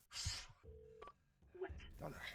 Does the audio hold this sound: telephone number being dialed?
yes